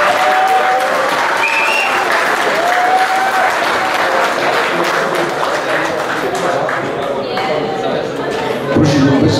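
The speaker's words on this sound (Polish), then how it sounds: "Brawo Marianko, teraz brawa proszę państwa." Audience applauding a prize winner at a golf tournament awards ceremony, steady dense clapping throughout with some voices and whistle-like tones mixed in, loud and sustained.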